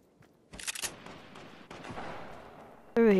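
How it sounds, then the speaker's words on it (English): Shotgun blasts in Fortnite: a loud, sharp burst of shots early on, then a steady rumble of game noise, with a louder game tone cutting in at the very end. "Over here somewhere, I can hear the shotgun."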